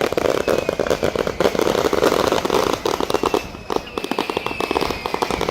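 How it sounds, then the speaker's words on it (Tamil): Fireworks burst over the sea at a Catholic festival, a dense, continuous crackling barrage of rapid pops and bangs that goes on without letting up. "கடலுக்குள்ள வெடிச்சு அப்படியே கடலுக்குள்ளே பறக்குது அப்படியே தீப்பொறி எல்லாமே."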